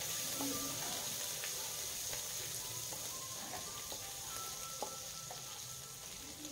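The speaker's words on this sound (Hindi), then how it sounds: "अब इसे 1 मिनट तक फ्राई कर लें" Green chilli, ginger and garlic fry in hot oil with a steady sizzling crackle. Light stirring clicks and pops run through it, and there is no talk.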